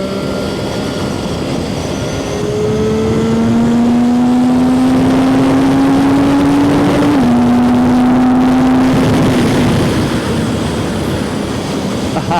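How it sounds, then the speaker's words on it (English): An Aprilia 675SR-R motorcycle engine drones loudly while being ridden, its pitch rising steadily then dipping briefly before climbing again, under constant wind and road roar. "in order to ride fast on this bike, you have to be very rough and aggressive with the throttle"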